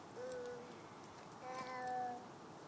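A small child imitates a cat's meow outdoors, giving two short, faint, high-pitched mews a second apart over quiet background noise.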